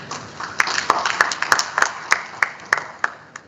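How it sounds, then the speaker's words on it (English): Sparse applause from a small conference audience after a presentation on REDD+ climate finance, with scattered distinct claps at an uneven rhythm rather than a full ovation, moderately close. "Please give him a big round of applause."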